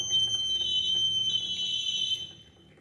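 A water level sensor alarm, triggered at a critical water level, beeps shrilly and continuously at a high pitch for about two seconds before cutting off.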